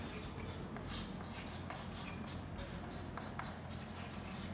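Chalk or marker scratching on a board during a physics lesson on moving charges and magnetism, with faint repeated strokes heard over steady room hiss and low hum.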